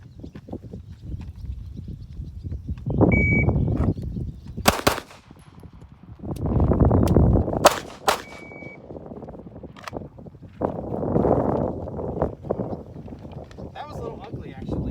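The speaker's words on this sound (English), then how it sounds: "fire 2 rounds, do a mag change, and then fire 2 more rounds in 12 seconds." A pistol is fired during a police qualification test on a range: sharp, loud reports in pairs with a pause for a magazine change between, while people talk nearby.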